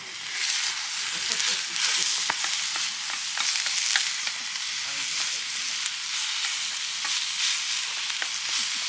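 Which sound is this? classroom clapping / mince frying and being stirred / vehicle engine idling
mince frying and being stirred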